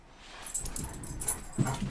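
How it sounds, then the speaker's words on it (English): A dog in Hades II barks and whimpers in a run of short yelps and whines amid busy game sounds, moderately loud and ending in a stronger low bark. "Dog go crazy."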